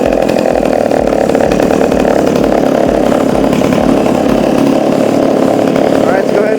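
A pull-started gas scooter engine with a high-airflow filter runs loud and close, a steady buzzing two-stroke drone that holds throughout.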